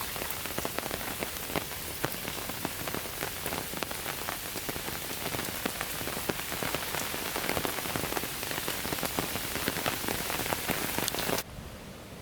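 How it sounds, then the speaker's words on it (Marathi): Heavy monsoon rain pours steadily in coastal Konkan, a dense, loud, even hiss of drops drumming on surfaces that cuts off abruptly near the end. "मजबूत पाऊस पडतोय"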